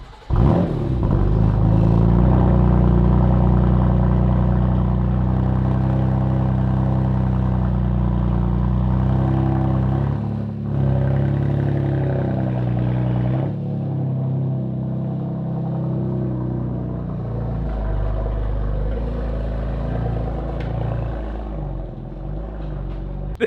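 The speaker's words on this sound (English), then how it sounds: "Here's a somewhat cold start for the M3." A BMW M3 fitted with carbon fiber parts starts cold, its engine catching and settling into a loud, steady, deep idle that holds close by for over twenty seconds with slight shifts in tone and no talk.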